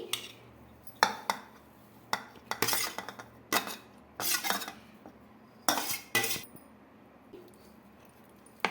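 A spoon clinks and scrapes against a bowl while spiced potato is mixed into wheat flour for aloo paratha, a series of short, irregular metallic taps close by with quiet pauses between them.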